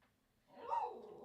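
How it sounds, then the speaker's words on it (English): A puppy gives a faint, brief whimpering yelp in a quiet room, rising then trailing off. "Y'all hear the puppy."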